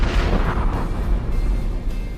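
A deep rumbling explosion effect for a chemical-safety warning about a factory fire, a loud sustained roar filling the whole stretch with no break and no voices.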